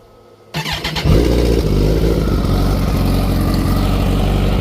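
A 2011 Kawasaki Ninja ZX14, non-ABS, fires up after a short crank and settles into a loud, steady close-up idle with a deep throbbing rumble.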